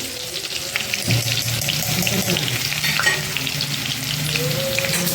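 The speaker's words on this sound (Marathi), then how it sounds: "आपल्याला हे करून घ्यायचं तळून लसूण पण छान असे आपले तळं गेलं पाहिजे" Garlic fries in oil with cumin, giving a loud, continuous sizzle broken by bursts of spatula stirring and scraping throughout.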